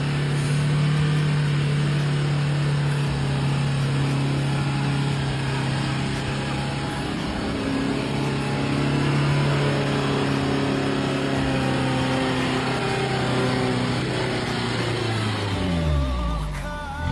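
A stuck lorry's engine drones and revs on slick, freshly rain-wet ground while it is pushed, a loud, close, shifting tone that sags and drops away at the end.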